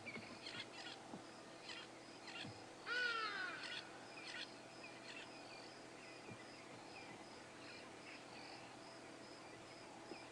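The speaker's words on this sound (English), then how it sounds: "Babblers." Babblers call faintly in the distance at sunrise in the African bush during a safari drive, a brief chattering burst over a steady background of insects and other birds.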